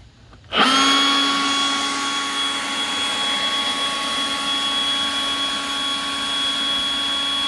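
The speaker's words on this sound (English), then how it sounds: "something I do want to make you aware of with this blower, it is loud." Milwaukee M18 Gen 3 Fuel dual-battery leaf blower starts up and runs, a loud steady high-pitched whine and rush of air that holds constant after a sudden start, heard alone at about ten feet.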